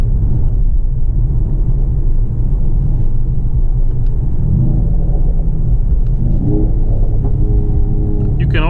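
Low, steady engine rumble from a 2020 Mercedes-AMG GT 4-door coupe while driving, loud and continuous throughout, with a voice talking over it and rising tones near the end as revs change.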